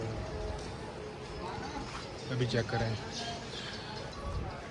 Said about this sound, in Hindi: तो अभी आहिस्ता आहिस्ता वो बाहर निकाल रहे हैं घोड़ों को